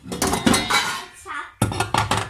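A large pressure-cooker-style pot with yellow handles and lid is handled in a kitchen during cleaning, giving several close metallic clanks and knocks, interrupted briefly, while a person talks.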